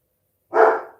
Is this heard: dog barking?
yes